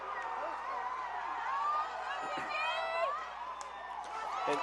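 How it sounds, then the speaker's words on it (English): Crowd at a Sac-Joaquin section softball title game calls out and shouts encouragement to a batter, a steady murmur of voices with scattered louder calls and whoops rising above it, fairly distant and continuous. "Crowd telling her to wait for your pitch, Marissa."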